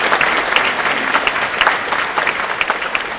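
A theatre audience at a performance of the Marathi play 'Sahi Re Sahi' claps in a dense burst of applause, loud and close, with sharper individual claps poking through for a few seconds.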